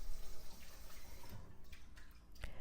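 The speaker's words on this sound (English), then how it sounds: "I wanted to make sure I water my little herb garden." Water running from a tap or hose while watering a small home herb garden, a steady close splashing flow throughout with a few brief drips and spatters.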